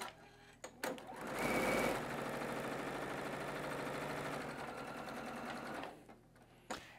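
A sewing machine stitching the last row of quilt blocks runs in a steady, close mechanical whir for several seconds, starting and stopping with a few clicks.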